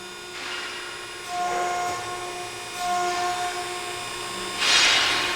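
A used 2006 Ermak CNC hydraulic press brake, 176 ton by 12 feet, model CNCHAP12X176, runs with a steady hydraulic hum and whine that swells in three or four cycles as the ram moves, each with a brief hiss.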